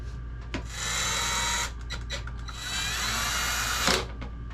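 A cordless drill or driver runs in two long bursts, driving screws while an RV rooftop air conditioner is reassembled, with short stops and clicks between runs.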